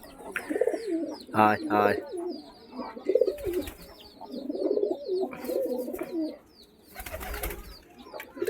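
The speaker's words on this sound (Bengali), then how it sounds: "আর ওইখানে আছে কিছু পায়রা" Pigeons coo in low, repeated rolling calls, close by, with a few brief chirps and faint rustling, while a person speaks briefly in between.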